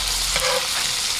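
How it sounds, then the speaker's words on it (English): Steak flipped into a pan of sizzling butter with garlic cloves and rosemary, a loud, close, continuous frying hiss that swells briefly as the meat lands. "I'm gonna flip my steak"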